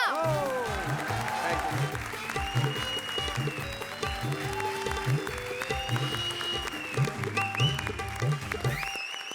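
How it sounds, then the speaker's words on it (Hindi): Loud audience applause on a Hindi TV comedy stage show, dense steady clapping running throughout with a rhythmic music beat underneath and no talk over it. "लीथल कॉम्बिनेशन कपिल और कविता के लिए जोरदार तालियां"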